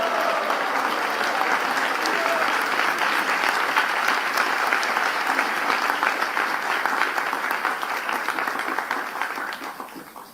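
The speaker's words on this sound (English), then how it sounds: "Please give him a big round of applause." A crowd at a spiritual gathering with Radhanath Swami gives a full, steady round of applause. The thick clapping stays loud for ten seconds and eases slightly at the very end.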